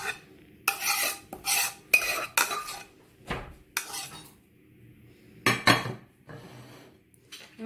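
Fresh homemade tagliatelle stirred into carbonara cream in a pan, with metal utensils clinking and scraping in repeated bursts of stirring separated by short pauses, close and fairly loud with no talking.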